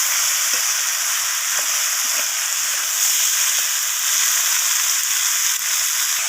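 Chopped cabbage is stir-fried with spices in a pan, giving a loud, continuous hissing sizzle that stays even from start to finish with faint scraping touches of stirring underneath.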